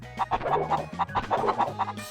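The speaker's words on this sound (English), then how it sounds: "So you approach the chicken and..." A chicken in the video game Crash Bandicoot clucks over and over in quick, bouncy bursts, loud and close, with a low tone humming beneath.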